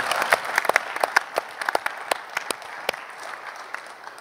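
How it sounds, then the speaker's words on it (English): A modest audience claps for panelists at the close of a discussion session, the individual claps distinct and uneven, loud at first and thinning out over a few seconds. "a round of applause for these panelists"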